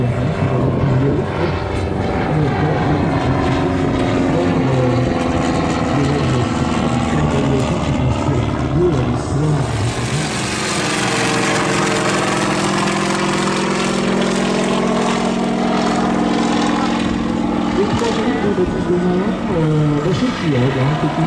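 A propeller airplane runs loud and close at an air show in Lens-Bénifontaine, its steady droning engine filling the whole stretch, with the pitch sweeping and shifting midway as the aircraft passes or changes power.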